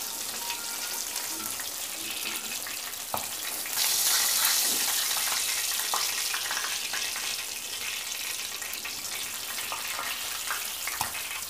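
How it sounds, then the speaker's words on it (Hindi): Fish fries on a tawa griddle with a dense, steady, close-up sizzling hiss that runs the whole time, swelling slightly partway through, with occasional small pops and no talking. "हम बाकी की भी इसी तरह फ्राई कर लेते हैं"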